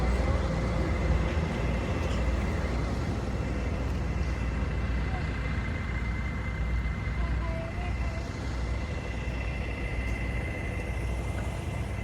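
A train rumbles past in a city, a steady, broad low roar that holds throughout at moderate distance.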